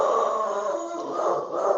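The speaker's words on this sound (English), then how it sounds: "Apparently the dog takes great umbrage." A dog howls in a sustained, wavering tone, fairly close and steady for a couple of seconds, with no talking over it.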